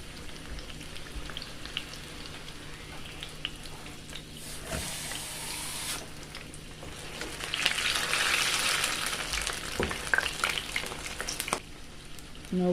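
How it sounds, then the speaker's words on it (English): Saltfish fritters fry in a pan of hot oil with a steady, close sizzle and crackle that swells louder partway through, with a few clinks and pops. "We're going to fry these on both sides until they are golden brown and crispy"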